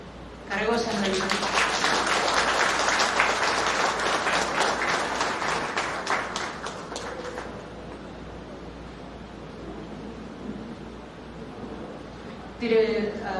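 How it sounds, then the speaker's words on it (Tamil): Audience applause at a book launch, a crowd clapping loudly and steadily for several seconds before thinning out, with a brief burst of voices or clapping near the end. "கரகோஷங்கள்."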